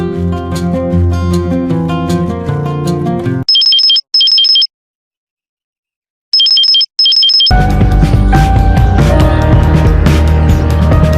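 A phone ringtone in a Hindi film trills in short electronic bursts, separated by a moment of silence, with loud music playing before and after the ringing.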